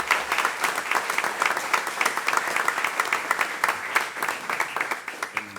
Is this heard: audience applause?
yes